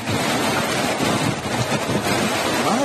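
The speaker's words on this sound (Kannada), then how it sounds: "ರಭಸವಾಗಿ ಹರಿಯುತ್ತಿದೆ ಕೃಷ್ಣಾ ನದಿ." The Krishna river runs in flood after heavy monsoon rain, a dense, unbroken roar of rushing water mixed with wind buffeting, loud and constant throughout.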